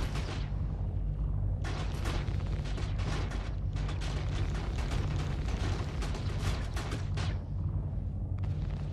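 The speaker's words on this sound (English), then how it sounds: "I have to shoot the station turrets" Game weapons fire at station turrets in Star Citizen, heard as dense, repeated bursts of booming shots and blasts that run almost without a break and sound loud and close.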